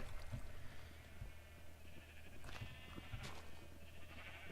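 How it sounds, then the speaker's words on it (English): Sheep bleat at a wool farm in a video game, several short faint bleats scattered across the clip over a steady low background hum, with no voices. "this is what you hear is all the sheep"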